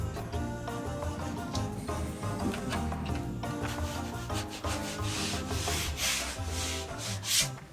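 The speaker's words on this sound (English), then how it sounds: "what I'm going through now is just going back with the wax, the sealing wax" Wax being rubbed by hand onto painted wooden shiplap boards, giving a steady scrubbing, sanding-like friction that runs continuously, close and moderately loud throughout.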